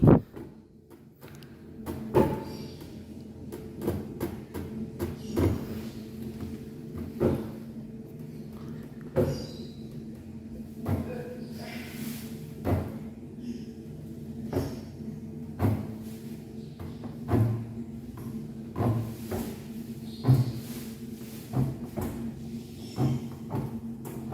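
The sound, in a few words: automatic prototype door closing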